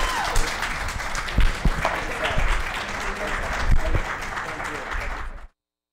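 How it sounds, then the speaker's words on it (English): A crowd at a Women of Achievement awards presentation applauds an honoree, loud close clapping from many hands with a few sharper individual claps standing out, running about five seconds before cutting off abruptly. "Let's give Emily another round of applause."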